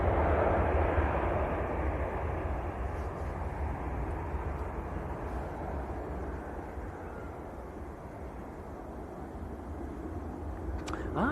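A Ryanair airliner departs Manchester Airport for Londonderry, a continuous distant jet rumble and roar that fades slightly, then swells again near the end, with no speech.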